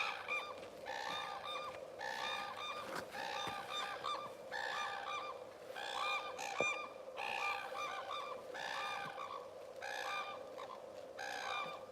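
Cranes call from a noisy flock in the snow in Hokkaido, repeated bugling and honking cries in rapid overlapping bursts, fairly faint and distant over a steady background, with no talk.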